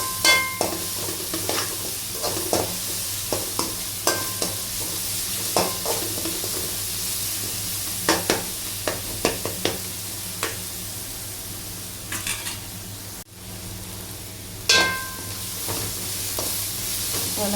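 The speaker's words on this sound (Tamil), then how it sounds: "எண்ணெயிலேயே கொஞ்சம் நல்லா வணக்கி விடுங்க" Ingredients sauté in hot oil in a pan, a steady sizzle broken by repeated scraping stirs and clinks of the spatula, close and fairly loud throughout.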